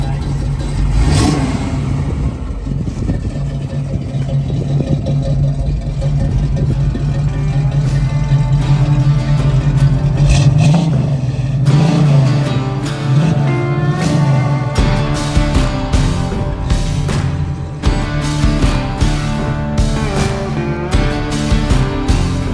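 A 1969 Camaro Z/28 with a 302 V8 and 4-speed fires up and revs loudly up close, its deep burbling idle broken by repeated sharp throttle blips and falling revs, with rattly mechanical clatter and no speech over it.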